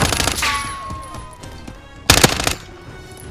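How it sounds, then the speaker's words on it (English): A stun grenade goes off in Call of Duty: Modern Warfare, a sharp, loud burst cutting through gunfire and a ringing tone, with more gunshot crackle before and after. "Stun grenade out."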